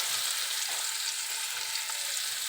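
Sliced onions fry in a pan for an egg curry, a constant close hiss of bubbling oil with a few faint crackles, and no one speaking.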